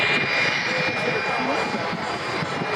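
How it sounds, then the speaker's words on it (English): The little Allison jet engine on the back of the Smoke and Thunder jet-powered car roars steadily at an air show, a dense continuous rushing whine with a high tone on top, loud throughout as an announcer talks over it. "With the thrust coming from the little Allison jet engine on the back of the jet car, of the jet-powered car, the smoke and thunder jet car."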